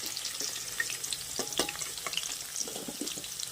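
Drumstick pieces fry in hot oil for pickle, giving a soft, continuous sizzle with scattered crackles and pops, fairly quiet and close, with no voices.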